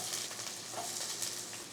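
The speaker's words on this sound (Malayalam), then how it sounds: "ഇനി ഇതിലോട്ട് സവാള അരിഞ്ഞിട്ട് ഇട്ട് കൊടുക്കാം." Sliced onions, two medium ones cut thin and lengthwise, drop into hot oil for a cauliflower pepper fry, giving a steady, close sizzle that holds evenly throughout with no voices.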